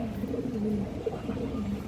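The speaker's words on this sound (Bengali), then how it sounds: "14 লেজের চিনি কালদম মাদি 1500 একদম" Chini Kaldom pigeons, among them a fourteen-tailed female, coo in low, throaty, rolling phrases. The cooing stays close and steady across the whole stretch, with no voices.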